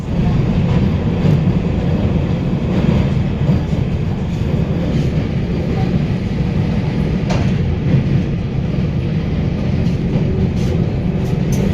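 Steady interior rumble of a Vande Bharat Express running between New Delhi and Katra, a continuous low roar with faint rail clatter, heard from inside the carriage with no one talking.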